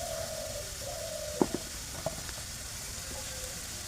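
Ground turmeric, chili, coriander and cumin powder with salt fry in oil in a pan for a tilapia bhuna, giving a faint, steady sizzle with a few soft stirring clicks.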